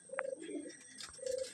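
Madrasi pigeons in a loft give a few short, close coos, two low murmuring calls separated by a brief pause, with faint background rustle.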